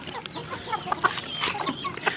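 Several chickens cluck and chatter close by in a busy, overlapping flock with short sharp calls throughout.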